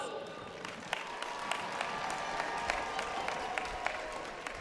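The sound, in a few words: applause for graduating scholars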